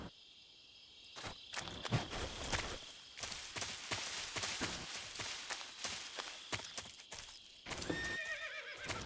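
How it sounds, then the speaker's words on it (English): A horse in the Metal Gear Solid 3 video game whinnies loudly while its hooves clip-clop, set against a chirping cricket ambience, with repeated clicks and a final whinny near the end. "Ooh, the horse. That's the boss's horse."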